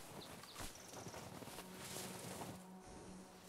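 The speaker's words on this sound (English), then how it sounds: "I'm trying to take the pelt, but I keep mounting the damn horse instead." Horse hooves clip-clopping in the Red Dead video game, a faint, steady walking rhythm over soft background noise.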